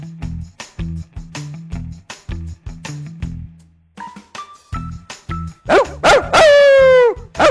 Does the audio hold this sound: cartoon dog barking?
yes